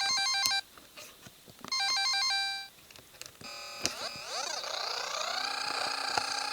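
Chiptune effects from a biking race game on a Nintendo e-Reader: quick trilling electronic beeps in short bursts, then rising and falling synthetic engine-like sweeps held steady at moderate volume, with no talking.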